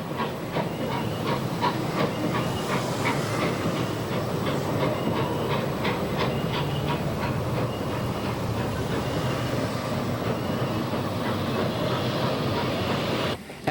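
A train rolls across a large welded-rail bridge over the Rio Casia on the Ferrocarril of El Salvador, a loud continuous roar with steady clickety-clack and hiss sustained throughout.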